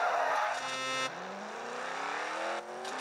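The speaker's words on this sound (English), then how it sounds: "I'm driving in a Range Rover right now." A Range Rover drives in the racing game Rebel Racing, its engine note climbing and holding in a steady, fairly loud whine with shifting pitch, heard alone without talk.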